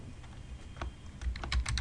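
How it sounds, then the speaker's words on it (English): Soft, quick keystrokes on a computer keyboard, a short burst of typing that grows busier toward the end, close but quiet, with no voices. "You simply type in the text"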